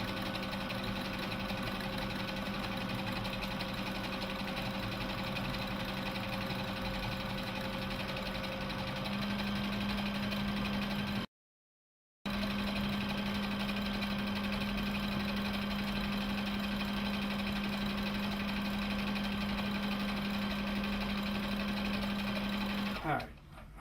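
A Brother LB6800 combination sewing and embroidery machine runs under foot-pedal control, giving a steady, close mechanical whir and hum of stitching that carries on for many seconds, breaks off briefly, then resumes until it stops at the end.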